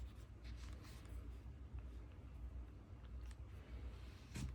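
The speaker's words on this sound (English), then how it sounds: "I like using the glass pen because it really puts down a lot of ink." A glass pen scratches Noodler's ink swatches onto white copy paper and Hobonichi paper, faint close-up nib strokes in short irregular bursts over quiet room tone, no talking.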